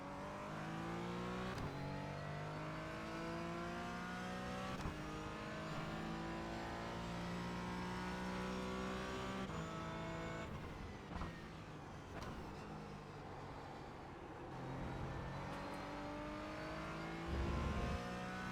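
A race car laps the Donington racing circuit in a racing video game, its engine revving and shifting through gears in rising and falling sweeps, steady and close throughout.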